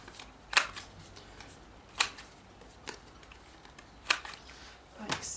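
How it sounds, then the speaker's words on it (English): Sharp snipping clicks from a 1/4 inch corner chomper punch rounding the corners of a handmade card, four distinct crisp chomps spaced about a second and a half apart, close and otherwise quiet. "I'm going to get my corner chomper and just round those edges with a 1/4 inch chomper"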